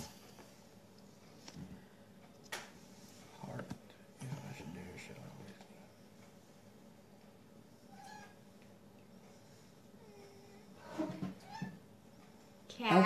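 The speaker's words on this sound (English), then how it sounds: "The cat just pulled my brush." A house cat meows a few times, soft and fairly close, amid quiet indoor handling noises and brief whispered talk, with louder bumps near the end.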